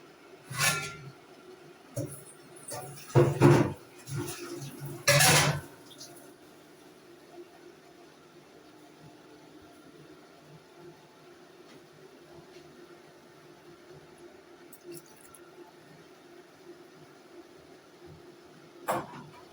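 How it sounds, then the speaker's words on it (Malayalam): Water is poured into a pot, likely a pressure cooker, for a liver fry, a few short loud splashy bursts early on, then a quiet stretch of low background noise. "ഇനി ആവശ്യത്തിനുള്ള വെള്ളം ഒഴിക്കുക."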